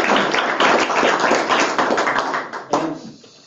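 An audience at a school board meeting claps in brief, fairly loud applause that fades out after a few seconds, with no talking.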